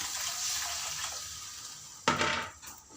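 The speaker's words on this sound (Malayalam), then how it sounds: "വെള്ളം ഒഴിച്ചു കൊടുക്കുക." Water splashes and pours briefly into a cooking pot of rasam, a sudden burst after a soft background hiss, then tapering off.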